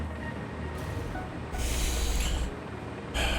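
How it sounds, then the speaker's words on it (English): A train rumbles and hisses in the video game Satisfactory as it departs, a steady heavy roll with bursts of brighter rushing noise, loud and close, with no voices. "No, train, don't leave without me."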